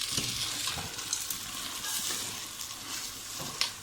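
Red and green peppers with onions and boiled dried beans cooking in olive oil, a continuous close sizzle with soft stirring scrapes in the pan.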